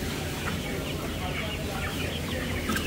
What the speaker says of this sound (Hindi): कलगी वाले मुर्गे हैं ये सारे.